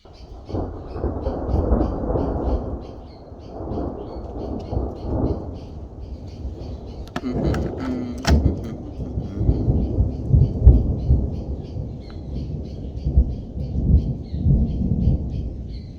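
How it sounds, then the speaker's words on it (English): Thunder rolls loudly through a thunderstorm in long, deep rumbles that swell and fade across the whole stretch, with rain hiss beneath and faint bird calls high above. "Just listening to the lightning is blissful."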